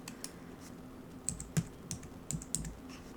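Computer keyboard keys tapped while entering a taskkill command in a Windows command prompt, a handful of soft, irregular clicks, close and quiet, with no voices.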